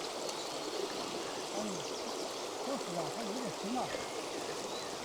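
An icy, fast-flowing river in the remote mountains of Sichuan, China, rushes as a steady, close, broadband roar with no pauses. Faint bird calls sound over the water noise.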